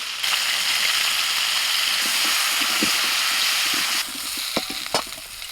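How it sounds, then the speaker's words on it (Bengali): Cauliflower and new potato pieces fry in a pan seasoned with salt and turmeric, giving a steady, close sizzle throughout with a few soft stirring knocks near the end. "কপি আর আলুটা ভাজা হয়ে গেছে"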